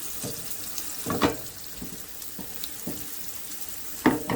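About half a cup of hot oil sizzles steadily under chicken frying in a pan, with several short scraping and clattering knocks scattered throughout.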